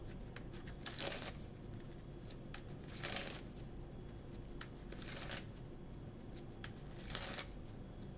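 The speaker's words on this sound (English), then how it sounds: "Shuffles passive aggressively." Sleeved playing cards from a Magic: The Gathering deck shuffled close by, rhythmic bursts of rapid plastic riffling and slapping, repeated several times with brief pauses between, no voices.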